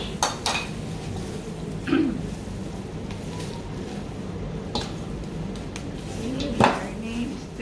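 Fish being stirred slowly in a teriyaki marinade with oyster sauce, giving soft wet squishes and a few clinks of a utensil against a bowl, with quiet background noise.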